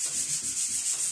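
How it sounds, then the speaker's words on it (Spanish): An electric sander with worn 180-grit paper working over an interior wall, a steady close hissing rub that swells and eases in a regular rhythm as the pad sweeps back and forth, with no talk. "y con la lijadora lo iré lijando"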